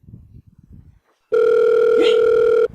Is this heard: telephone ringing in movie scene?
yes